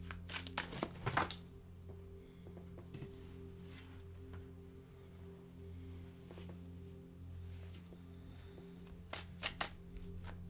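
Tarot cards are shuffled by hand to draw one more card, giving soft riffling and flicking bursts near the start and end over a quiet, faintly humming room.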